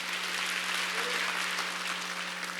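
A church congregation applauds during a Sunday worship service, producing a dense, steady wash of clapping that fills the whole moment with no break.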